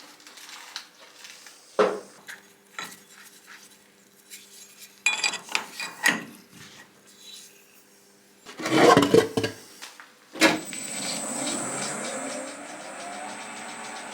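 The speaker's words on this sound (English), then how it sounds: "The first op's to face off the aluminium rod and then machine it to 23mm OD." A lathe facing and machining an aluminium rod: scattered metallic clanks and handling knocks, then a steady, close motor whine with hiss that runs on to the end.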